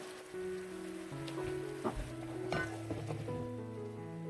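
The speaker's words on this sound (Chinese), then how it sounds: "包子烧成这样就可以倒点水进去。" Water poured into a pan of pan-fried buns, a steady bright sizzle and crackle with a faint hum beneath, moderately quiet throughout and no voices.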